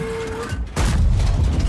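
A single booming gunshot from a team shooter video game, a sharp broadband blast that gives way to a sustained rumbling tail, close and loud with no talk over it.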